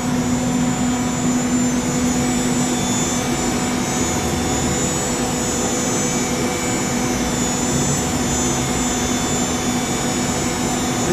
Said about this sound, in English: It's just running a program, so it's milling a circle and two planes opposite each other.